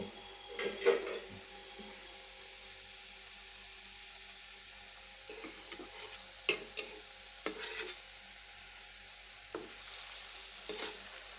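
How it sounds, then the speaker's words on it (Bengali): Flattened-rice raspuli fry gently in oil with a faint, soft sizzle, broken by occasional clinks and scrapes of a utensil against the pan. "এইভাবে আমি একটু লালচে করে ভেজে তুলে নেব"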